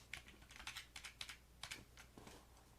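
Quiet, irregular clacking of keys on a computer keyboard while entering headings into an Excel spreadsheet, a short run of close-up taps with brief pauses between them.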